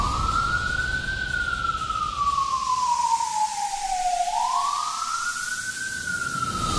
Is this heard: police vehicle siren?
yes